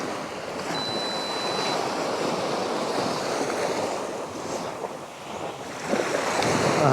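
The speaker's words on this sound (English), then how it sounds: "with the waves coming in and sliding back out" Ocean waves wash up a shore and slide back out during rain, a steady broadband roar with gentle swells and a faint whistle of wind noise across the mic, no voices.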